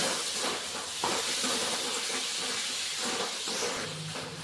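Tomatoes sizzle and hiss steadily in a pan of sautéed ginger garlic paste for an ivy gourd curry, a constant close sputtering with faint clinks underneath.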